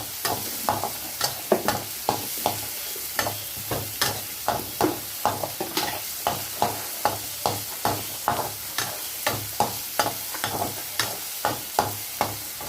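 Whole spices, fennel seeds, a clove and a cinnamon stick, go into a hot pan of oil for a red amaranth stem curry, with a steady train of sharp ticks, pops and crackles over a low sizzle, close and fairly quiet.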